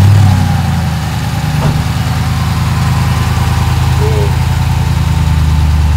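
A Jeep's V8 engine idles steadily, a low even rumble that stays loud and close throughout, with a brief faint noise partway through.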